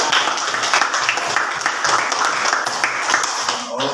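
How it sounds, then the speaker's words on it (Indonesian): Classroom applause for a student group during a Catholic religion lesson, steady dense clapping from many students filling the whole stretch, with voices mixed in underneath. "tepuk tangan untuk kelompok 2. Tepuk tangan yang kuat."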